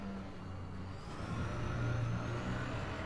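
A spaceship passes by in Elite Dangerous, a low droning engine rumble that slowly swells in the middle and fades, with a faint rising whine above it.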